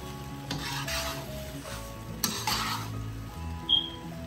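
Noodles being stir fried and tossed with sauce in a pan, a soft steady sizzle with scraping, stirring strokes at an even pace and a couple of sharper utensil clinks, close and fairly quiet.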